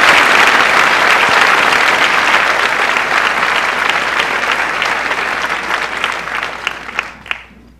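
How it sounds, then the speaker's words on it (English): At a school closing-day ceremony in an auditorium, a large audience claps loudly and continuously, then the applause tapers off to a few scattered final claps. "so let's give him a round of applause"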